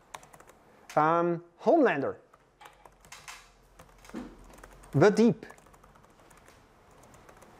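Clicking keystrokes on a new computer keyboard during a C# programming session, with scattered taps and short bursts heard beneath a man's speech.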